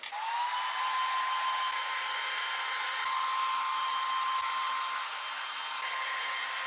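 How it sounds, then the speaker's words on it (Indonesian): A hair dryer blows steadily on wet hair after a shampoo in a home keratin treatment, a loud constant whirring hiss that starts abruptly and runs unbroken to the end. "Nah aku mau keringin pakai hair dryer ini."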